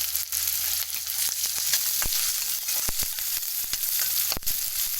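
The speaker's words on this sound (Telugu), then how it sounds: "బాండీ పెట్టుకున్నాం, నూనె కాగాక మనం జీలకర్ర వేసుకున్నాం, చిల్లీస్ వేసుకున్నామండి." Cumin seeds and chillies sizzle loudly in hot oil in a kitchen pan, a steady bright crackle with occasional sharper pops throughout.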